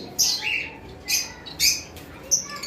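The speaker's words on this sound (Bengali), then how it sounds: "এখানে এক পেয়ার পাইনাপেল কোনোর রয়েছে, দেখতে পারতেছেন।" A pair of pineapple conure parrots in a bird-selling setup give several short, sharp, shrill squawks and chirps close by over a low background murmur.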